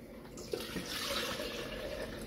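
Water is poured into apple cake batter in a home kitchen as a soft, continuous trickle, close by and quiet. A small clink sounds near the start.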